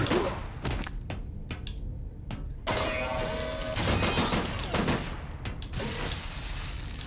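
Gunfire in a video game, rapid bursts of shots with mechanical clicks and metallic clatter, loud and close, broken by short gaps.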